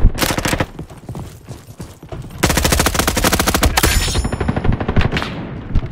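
Rapid gunfire from a sniper in the Roblox shooter Frontlines, loud and close, coming in dense bursts that pause briefly, then resume harder with sharp metallic clatter near the end.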